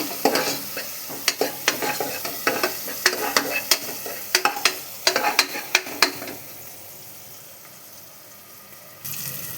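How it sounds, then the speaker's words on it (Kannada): Onions frying in a pan until lightly browned, with a run of sharp rhythmic spatula scrapes and knocks over a continuous sizzle. The stirring stops partway and leaves a softer hiss that swells again near the end. "ಚೆನ್ನಾಗಿ ಥರ ಸ್ವಲ್ಪ ಕಂದು ಬಣ್ಣ ಬರೋವರೆಗೂ ಈರುಳ್ಳಿನ ಈ ಥರ ಫ್ರೈ ಮಾಡ್ಕೊತಾನೆ"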